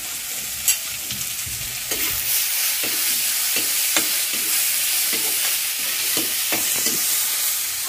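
Ginger, garlic and onion with cumin frying in a pan for village-style stuffed brinjal, a constant hiss of oil overlaid by repeated spatula scrapes and taps at an uneven pace, close up and with nobody talking.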